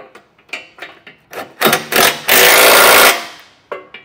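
Ratcheting socket wrench snugging hitch bolts on a 2023 BMW X4, a run of short clicking bursts building into a sustained loud rapid ratchet, then a few closing clicks, heard close with no talk.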